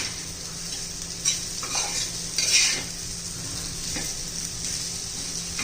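Okra (bhindi) stirred in an open pan over low heat, a quiet continuous sizzle broken by several soft scrapes and clinks of the spoon against the pan.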